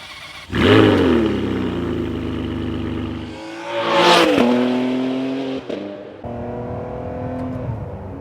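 A Ferrari 599's V12 engine cranks and fires up loudly, settles into a rumbling idle, then gives a sharp rev before idling again close by, with no talking.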